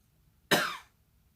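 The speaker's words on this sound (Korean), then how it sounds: "아이고, 기침까지 나오네요." A single sharp cough from a man, isolated and fairly close, bursting suddenly and trailing off within about half a second against a quiet background.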